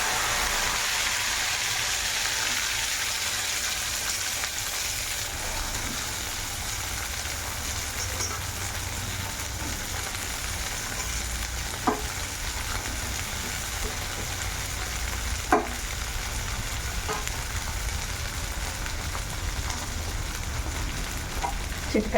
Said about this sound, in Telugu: 1/2 టీ స్పూన్ ఆవాలు, 1/2 టీ స్పూన్ జీలకర్ర, తర్వాత కాసరకాయల్ని యాడ్ చేసుకుంటాం.